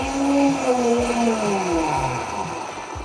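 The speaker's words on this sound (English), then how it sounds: "we're gonna blend this full blast for about 10 to 15 seconds" A blender whirs at full speed through a spiced barbecue-style sauce with star anise, a steady loud motor whine with a slowly shifting pitch, running alone without talk.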